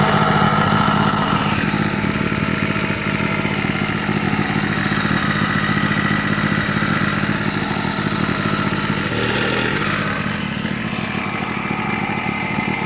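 A used Champion portable generator runs under a heavier load, its engine droning loud and steady at close range with a constant hum, the pitch shifting slightly near the end as the load changes.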